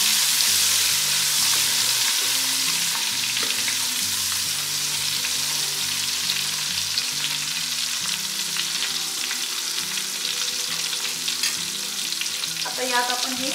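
Three tomatoes sizzle and fry steadily in a pan for shahi mutton biryani, a continuous close crackle with faint stirring, and no voices over it.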